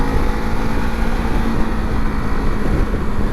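A Ducati motorcycle engine drones steadily as the rider drops a gear, a loud continuous rumble mixed with heavy wind buffeting on the microphone and no talking.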